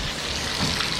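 Water splashing and rushing while rinsing out a bottle, a short continuous hissing gush up close.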